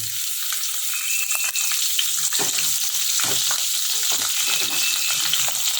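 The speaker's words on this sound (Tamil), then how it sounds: "2 டேபிள் ஸ்பூன் ஆயில் போட்டுருக்கு, கொஞ்சம் வெந்தயம் தாளிக்கிறதுக்கு" Steady, close sizzle of hot oil with fenugreek seeds crackling and popping as they temper in a pan, continuous and fairly loud throughout.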